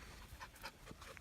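A dog pants in quick, breathy puffs close by, with faint background noise and no talking.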